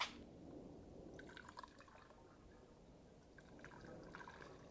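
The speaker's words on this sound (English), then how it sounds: "So just pour the whole bottle in there." Fuel cleaner pours steadily from a bottle into a car's gas tank in a faint, gurgling trickle, with a few soft drips toward the end; no voices.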